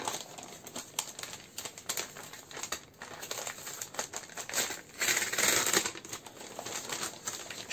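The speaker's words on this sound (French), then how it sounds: "Je prends mon temps pour déballer" Crinkling and rustling of paper wrapping as a swap gift package is slowly opened, close and fairly soft, with irregular crackles and a louder burst of tearing and crumpling near the end.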